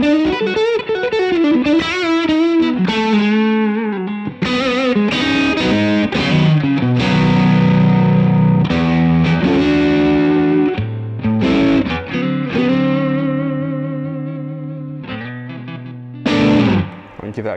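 An ash-bodied S-style electric guitar with lower output pickups plays sustained, overdriven chords and melodic lines. Notes ring loud and full with occasional pauses, and a voice may be faintly present.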